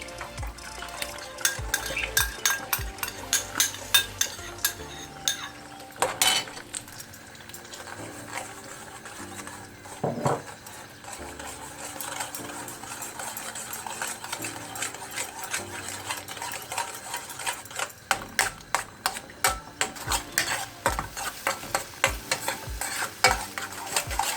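Egg poured into a hot pan for spicy bread masala fries with a continuous sizzle, broken by frequent scraping and clinking of a utensil against the pan, close and moderately loud, no talk.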